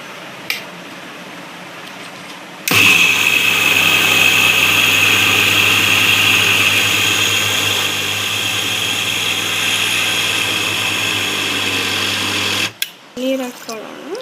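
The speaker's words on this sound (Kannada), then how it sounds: "ಈಗ ಮಿಕ್ಸರ್ಗೆ ಹಾಕ್ಕೊಳ್ತೇನೆ" A kitchen mixer grinder grinds soaked rice, urad dal, chana dal and green gram into dosa batter, with a loud, steady whirring motor drone that runs about ten seconds and then cuts off, followed by brief voices.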